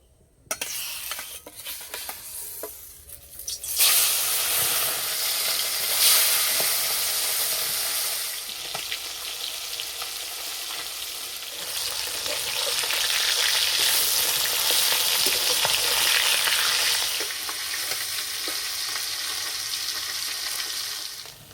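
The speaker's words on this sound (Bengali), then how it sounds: "মাছগুলো ভেজে নেব।" Bata fish frying in mustard oil in a kadai; a quieter start gives way to a loud, dense sizzle from about four seconds on that carries steadily to the end, close and without talk.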